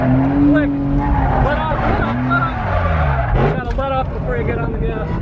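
A drift car at a Stockton Outlaw Drift Series event revs hard while its tires skid and squeal, loud and continuous, with voices talking over the engine noise.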